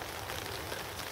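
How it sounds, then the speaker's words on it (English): Steady rain falling outdoors at a pike fishing spot in autumn, a continuous soft hiss of drops on surfaces, even and unbroken, fairly faint with no voices. "it started raining again, you can probably hear it."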